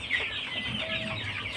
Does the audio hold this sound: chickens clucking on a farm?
yes